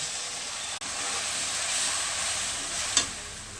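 Onions, tomato and spices frying in a pan for a kidney bean curry, giving a steady soft sizzle and hiss, with a sharp brief clatter near the end.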